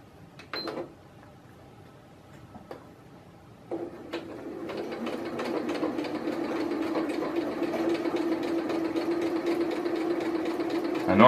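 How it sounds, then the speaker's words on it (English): A sewing machine stitches heavy strap webbing for a folding-table shoulder strap, starting with a few isolated clicks and short bursts, then running into a steady, moderately paced rhythmic whirr that continues to the end. "I normally sew a lot faster, but when I'm working on this heavier material, the machine doesn't like to cooperate if I go really fast"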